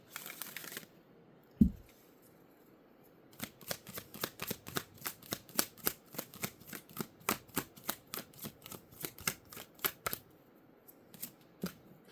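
Oracle cards being shuffled in a rapid series of crisp riffling snaps, close up, after a single thump, with no talking.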